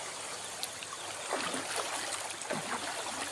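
Water runs steadily in an outdoor stream, a soft continuous trickle and gurgle with a few brief splashes, fairly quiet and free of talk.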